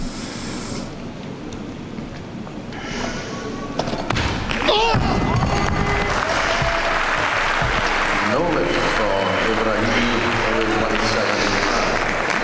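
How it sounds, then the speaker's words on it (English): Audience applause and cheering fill a weightlifting arena after a failed 94 kg snatch attempt at the 2005 World Championships, rising with a thud of the dropped bar and sustained loudly, with a commentator's voice underneath. "I always wonder about the applause for a failure"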